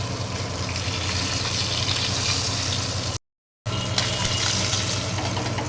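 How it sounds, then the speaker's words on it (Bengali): Pabda fish fry in hot oil in a home kitchen, giving a loud, steady, close sizzle that runs without pause, apart from a brief dropout midway. "আমার এই মাছগুলো লাল লাল করে ভাজা হয়ে গেছে"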